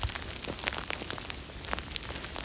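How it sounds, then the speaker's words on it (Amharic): Soft, continuous patter of wet snow falling like rain on surfaces outdoors during a storm, with scattered sharper drips over a quiet background. "ልክ እንደ ዝናብ ነው እየወረደ ያለው።"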